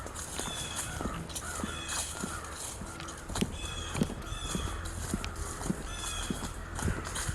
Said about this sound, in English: crow activity, as it seems